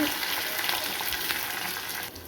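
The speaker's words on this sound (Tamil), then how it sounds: "ஒரு ரெண்டு வர மிளகா ஒரு ரெண்டு பச்சை மிளகா கொஞ்சம் கருவேப்பில்லை சேர்த்துட்டு நல்லா இது கொஞ்சம் பொன்னிறமாக ஆக வரைக்கும் நம்ம வதக்கிட்டு" Dried and green chillies with curry leaves sizzle and crackle steadily in hot oil in a pan, a close, continuous fry with faint stirring.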